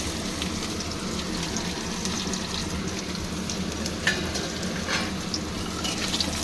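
Eggplant fries in hot oil in a pan after potatoes, a dense, steady sizzle close up with occasional scraping stirs and brief clinks near the end.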